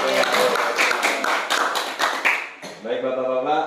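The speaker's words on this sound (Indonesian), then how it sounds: "ya, tepuk tangan dulu." A group of farmers clapping their hands together at an outdoor agricultural extension gathering, a burst of quick rhythmic claps under a speaker's voice, then fading as talking continues.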